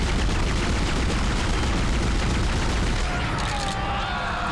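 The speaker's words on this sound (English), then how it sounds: "I'll just shoot its chest." Sustained rapid gunfire from a weapon fired at a monster's chest in the survival-horror game Dead Space, a dense loud barrage of shots filling the clip with steady crackling bursts and booming low end.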